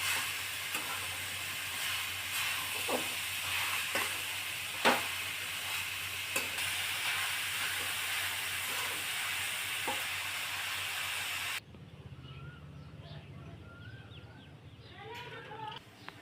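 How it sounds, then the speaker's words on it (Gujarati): Carrot halwa being stirred in ghee in a pan, a steady frying sizzle with soft scraping strokes and occasional spoon knocks, fairly close, ending abruptly in quieter outdoor ambience with faint birdsong. "હવે આને છે ને થોડું થોડું હલાવતા રહીએ એટલે ઘી આની અંદર ભળી જાય"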